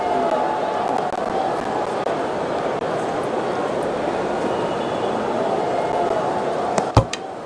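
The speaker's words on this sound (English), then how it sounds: "The crowd applaud." A cricket crowd applauds a batsman reaching his fifty at an India vs Australia Test match, a steady, dense wash of clapping that holds throughout, with a brief sharp clatter near the end.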